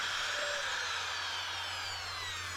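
A power drill bores pilot holes next to wedge anchors on a ledger board against a basement wall, a steady high whine held close and continuous.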